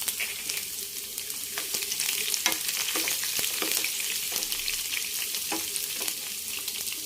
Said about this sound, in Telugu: ఆవాలు చిటపట అనేటప్పుడు ఒక 10 వెల్లుల్లి వేసుకున్నాను దంచి